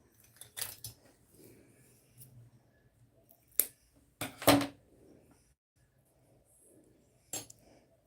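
Sharp scissors snip crochet yarn to fasten off a finished piece, a few crisp separate cuts and clicks close by, with long quiet gaps between them.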